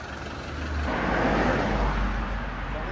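A car engine rumbles as the car is driven downhill on a mountain road in India. The low, steady drone swells louder after about a second and stays close and continuous.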